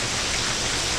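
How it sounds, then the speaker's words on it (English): Light to medium rain falls outside a back porch, a steady, even hiss of drops on surfaces that stays constant and close, with no voices or other sounds over it. "you can hear the rain falling in the background"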